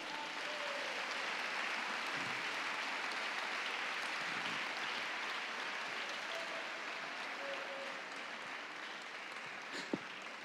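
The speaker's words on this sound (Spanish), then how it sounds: "dale fuerte aplauso a Cristo" Congregation at a church service applauding loudly and steadily for about ten seconds, a dense continuous clapping wash with a few brief voices and shouts rising through it.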